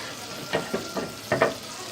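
A stick of butter melts in a pan with a faint sizzle, marked by a few soft crackling pops over two seconds.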